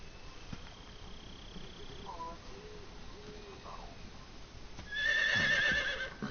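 A horse neighing in Metal Gear Solid 3, a loud whinny rising near the end over quiet jungle ambience with faint bird calls, with soft hoof clip-clops heard beforehand.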